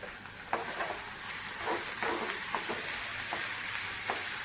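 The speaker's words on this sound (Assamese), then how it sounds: "এক মিনিটমান ভাজিব লাগিব" Ginger garlic paste frying in a pan with onions, a continuous loud sizzle and hiss with soft stirring scrapes recurring roughly every half second, no talking.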